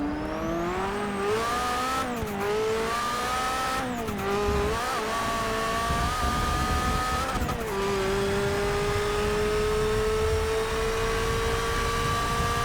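A Nissan R91CP prototype race car at Silverstone in Forza Motorsport 6 screams steadily at high revs, its engine pitch rising and dipping through several gear changes, loud and continuous with no talk.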